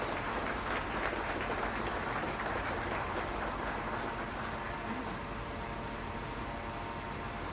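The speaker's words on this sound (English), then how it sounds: "Let's give these young people a big round of applause, please." Steady, dense applause from an audience at a county fair beef show rings out continuously for several seconds, full and close, easing only slightly toward the end.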